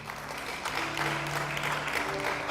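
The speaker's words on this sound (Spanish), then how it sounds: "Denle un aplauso a Dios." Steady applause from a church congregation during an evangelical sermon by a pastor, moderately quiet and continuous with a low sustained tone beneath it, no speech over it.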